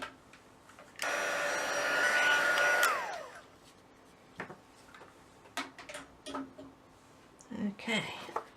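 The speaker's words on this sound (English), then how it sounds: "I'm just going to warm up my heat tool." A crafting heat tool switched on for a couple of seconds, a loud steady whirring blow with a whining tone that falls away as it powers down, followed by scattered clicks and handling noises.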